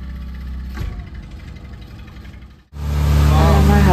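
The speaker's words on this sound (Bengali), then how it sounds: "হাজব্যান্ড এখন বোট চালিয়ে নিয়ে যাচ্ছে।" Motorboat engine droning steadily on a river at Satkosia tiger reserve wildlife sanctuary, briefly cutting out before surging back louder and closer, with a voice speaking over it.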